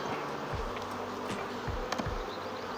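Honey bees buzz all around a hive building wax comb, a steady hum with individual bees droning past close by.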